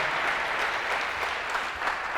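A church congregation applauds during a sermon, with dense, continuous clapping from a large crowd, steady and moderately distant, with no voices over it.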